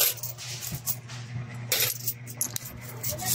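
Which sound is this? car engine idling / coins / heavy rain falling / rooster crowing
coins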